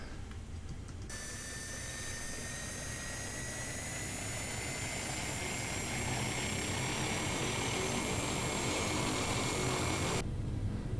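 A Carenado F50 turboprop engine spools up in the X-Plane 11 flight simulator, a steady loud whine and roar rising slowly in pitch as it starts, alone with no talking.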